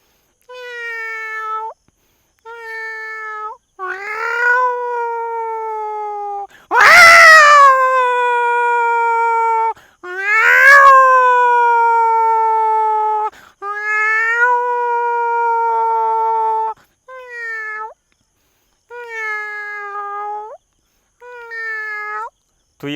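A human voice mimics a cat's angry yowls and meows, a series of drawn-out, wavering cries with short pauses, two louder harsh snarls in the middle.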